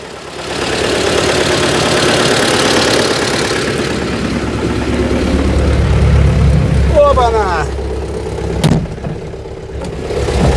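A T-40AM tractor engine pulls a PLN 3-35 plough through a field, a loud, close, rumbling drone with a knocking beat that swells and settles, ending with a few clanks and rattles.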